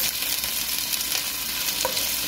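Onions sizzling steadily in hot oil in a pan while beef is being cooked, a continuous close, even frying hiss with no talking.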